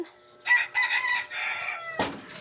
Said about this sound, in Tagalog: ang daming manok dito.